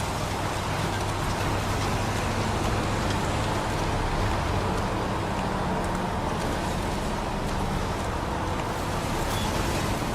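Rain in the video game Heavy Rain, a dense steady downpour hissing on surfaces, loud and unbroken throughout, with a low rumble like distant traffic underneath.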